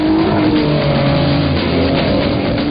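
A Peugeot 306 with a 3.0 V6 engine accelerates hard on a track, its engine a loud continuous roar with rising pitch and a hint of tire noise.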